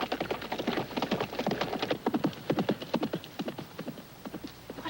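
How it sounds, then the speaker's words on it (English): Horse hooves clip-clopping in a quick, steady rhythm at moderate distance, a continuous run of sharp knocks with no talk. "a magnificent horse."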